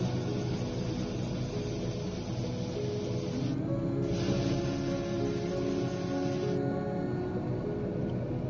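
Airbrush or spray-can primer hisses in two long continuous bursts with a short pause between them as parts for a 1/24 scale Alpha Model Ferrari SF90 Stradale kit, including interior pieces like the seat back, are primed, over a steady background hum.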